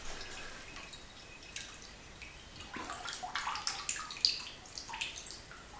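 Homemade cider juice trickling slowly out of a bucket of thick, sandy pulp, heard as faint, close dripping and light splashes that grow a little busier toward the end, with no talking.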